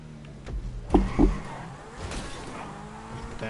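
A purple Cheetah sports car driven in the video game GTA, with engine drone and a couple of loud thumping impacts early on, then rushing road noise.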